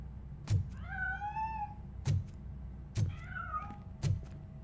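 A cat meows twice in the video game Robocop: Rogue City, with rising and falling tonal cries between four dull thuds spaced about a second apart, close and clear over a steady low hum.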